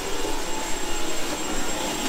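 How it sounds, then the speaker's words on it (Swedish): A new Dyson cordless vacuum cleaner runs steadily indoors in a holiday house, a constant close whirring hiss with a high whine and no pauses. "Nya Dyson dammsugaren."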